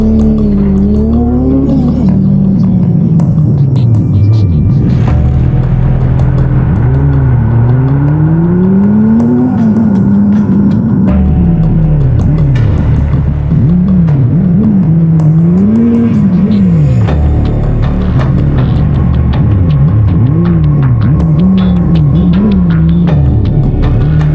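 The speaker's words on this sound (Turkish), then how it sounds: "lastik çıkmasına rağmen jantla kaçmaya devam ediyor." A car hit another vehicle in Turkey and fled on a bare wheel rim after losing a tire, with a motorcyclist in pursuit. A loud, continuous engine revs up and down with rising and falling pitch, and no voices are heard.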